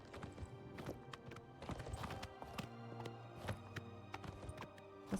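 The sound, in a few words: horse hooves clip-clop in video game Oblivion Remastered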